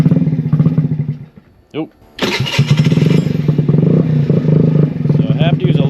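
A stock 49cc 139QMB GY6 scooter engine fitted with a 21mm PWK carburetor runs close by, cutting out briefly and then restarting into a loud, steady, throbbing run held on heavy throttle, while a voice speaks briefly over it.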